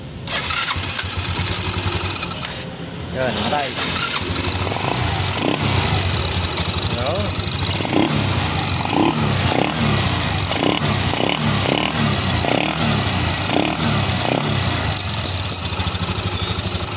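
A Yamaha Mio MX125 scooter with a loose-compression fault cranks and fires up with one press, then settles into a steady, close, loud idle with uneven pulsing while someone speaks briefly over it.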